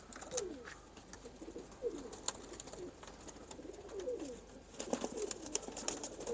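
Soft pigeon coos repeat in short, throaty phrases with a few scattered clicks and flutters, close by and fairly quiet, with no talking.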